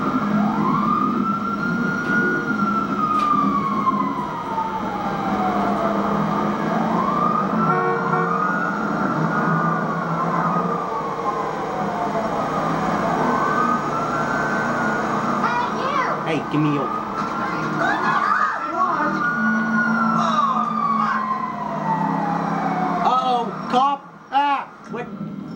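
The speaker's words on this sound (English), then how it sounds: "Oh, there's the ambulance" An ambulance in GTA 5 wails with a rising and falling siren that repeats in slow sweeps over steady traffic noise, while a voice talks over it and a few sharp bursts punctuate the end.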